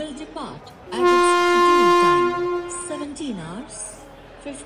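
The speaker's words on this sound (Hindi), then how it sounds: "अबे ट्रेन ने हॉर्न दे दिया, कहीं चल तो नहीं पड़ेगी।" A train horn sounds at a railway station, one long loud blast lasting about two seconds, with people talking nearby before and after it.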